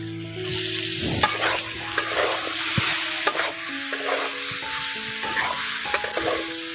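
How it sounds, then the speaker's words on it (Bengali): Pumpkin and potato fry in a pan while a spoon stirs them, giving a steady close sizzle broken by scraping strokes and occasional sharp clinks of the utensil against the pan. "এখন কুমড়োর সঙ্গে ভালো করে মিশিয়ে নিচ্ছি"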